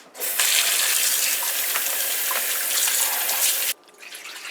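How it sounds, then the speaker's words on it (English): Tap water gushes loudly and steadily into a sink while raw chicken is rinsed, a close, continuous splashing hiss that stops abruptly near the end, leaving faint trickles. "we're going to rinse it off after with just some plain water"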